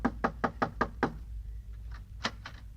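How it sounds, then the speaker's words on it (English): Six quick, evenly spaced knocks rap on a wooden door in an old-time radio comedy, followed after a pause by a few softer, scattered knocks, heard alone without talk. "Yeah, knock on the door."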